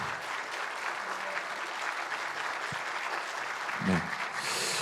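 A church congregation at a Sunday service applauding: steady, sustained clapping from many hands filling the room at an even level, with a brief voice surfacing near the end.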